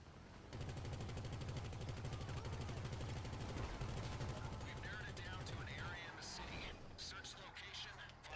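Video game gunfire in GTA V Online rattles in a long sustained burst of rapid automatic shots, fairly loud and steady, ending in a chaotic stretch with voices talking over it.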